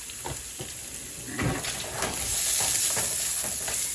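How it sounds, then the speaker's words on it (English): Spam sizzles and crackles steadily in a hot pan, with a few stirring scrapes and a constant hiss, growing slightly louder toward the end. "while you have this frying up"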